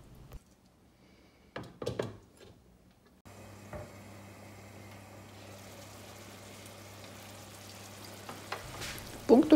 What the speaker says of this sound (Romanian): gătim preț de 10 minute până scade lichidul lăsat de roșii